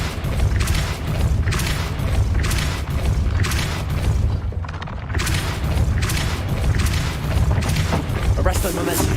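A Depulso spell cast in a Harry Potter video game, heard as repeated heavy booming, whooshing bursts in a steady rhythm, loud and dense with game effects.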